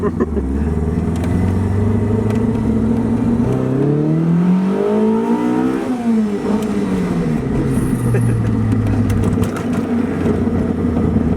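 A cammed car engine running rich with a lumpy, uneven idle revs up and falls back down, loud and close, its rough, motorbike-like note rising and dropping once.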